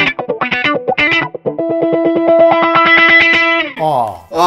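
Electric guitar played through a Vox wah pedal, a short phrase then a sustained, swelling note with a sweeping, mild, somewhat narrow filtered tone and distortion, loud and close, with brief talk around the playing.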